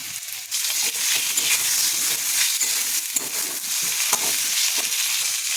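Eggplant pieces go into a pan of hot oil where taro has just been fried, giving a loud, continuous sizzle with occasional stirring scrapes and no talk.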